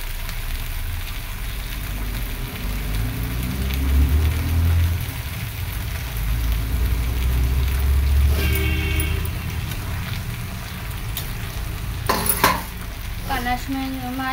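Tangra fish and water go into a hot pan for a spicy tangra curry, giving a low, steady sizzle and bubbling with a few sharp clanks of a utensil against the pan near the end.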